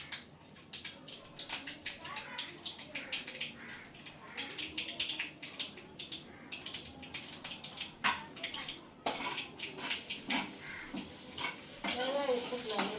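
Garlic frying in oil in a home kitchen pan is stirred with a metal spoon, giving a soft sizzle under frequent scraping and clinking, while people talk nearby.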